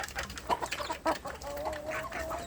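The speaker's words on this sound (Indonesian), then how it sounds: "Pagi ini saya memberi makan anak ayam kampung saya di bagian pembesaran sedulur." Two-month-old free-range village chicks clucking and peeping close by in a steady, busy chatter, with no voices.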